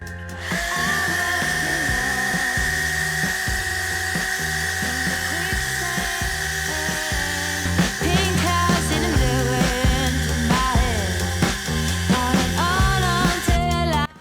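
A Revolt BCS 280 mini cordless chainsaw running on a 2 Ah battery gives a steady, high, drill-like motor whine that holds for the whole stretch, close and loud, over a busy, tonal background.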